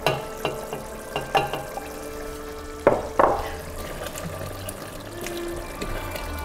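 Olives are stirred into a simmering pot of beef stew, with a few soft clinks of a utensil against the pot, then wet gentle stirring and bubbling, quiet and close, with no talk.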